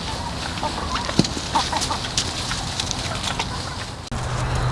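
Chickens clucking at close range on a hot day in Georgia, several short calls over steady outdoor background noise, with no talking.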